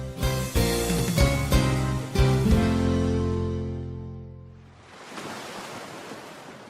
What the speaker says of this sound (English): The sea is dark. The waves are high.